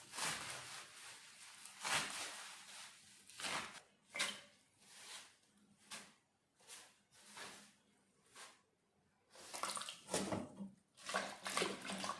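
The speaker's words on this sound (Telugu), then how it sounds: "ఆకుకూరల్ని మనం రెండు మూడు సార్లు వరకు కడగాల్సి ఉంటుందండి ఎందుకంటే ఇసుక ఉంటుంది కదా" Leafy greens are swished and rinsed in a basin of water, repeated bursts of splashing and sloshing with short pauses between, close by.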